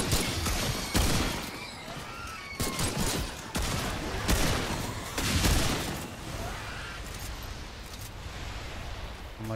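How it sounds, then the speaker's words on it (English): Rifle gunfire in the video game Remnant 2, with repeated loud shots and rapid bursts cracking close and sharp in clusters, trailing off into quieter ambient combat noise toward the end. "I'm liking this rifle though."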